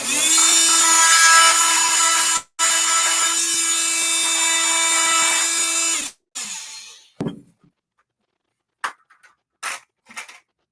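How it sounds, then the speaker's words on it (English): A jigsaw with a general-purpose blade cutting, a loud close whine with a short break, then it stops and gives way to a few clunks and handling noises. "This has got to be my favorite jigsaw."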